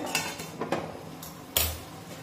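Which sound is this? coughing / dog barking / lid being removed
lid being removed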